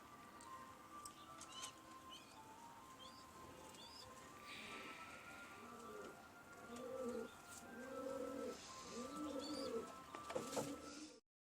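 Homing pigeons coo in a loft, making repeated soft low throaty coos close by over a steady background hum, with faint chirps from other birds.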